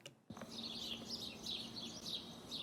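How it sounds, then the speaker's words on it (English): After a brief click, several birds chirp and warble continuously in the distance over a quiet background hum. "this is the bird noises that I was talking about"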